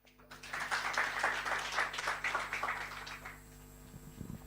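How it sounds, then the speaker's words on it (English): An audience at a biodiversity genomics regional meeting applauds a presenter, clapping for about three seconds before it fades into a quiet room with a low electrical hum. "Kindly a round of applause for Josephat."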